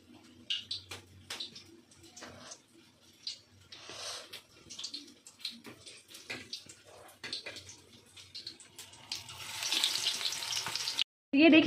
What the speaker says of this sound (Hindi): ये देखिए यहाँ गर्मा गर्म पराठे सेक रही हूँ